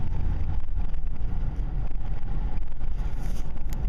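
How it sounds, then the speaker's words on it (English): Wind blows strongly outdoors, a continuous low rumble and buffeting across the microphone with no break, and nobody speaks. "Look at this wind."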